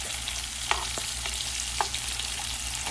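Shrimp, already turned pink, frying in a pan for shrimp and grits, giving a steady close sizzle with a few sharp pops and light utensil clicks and no talking.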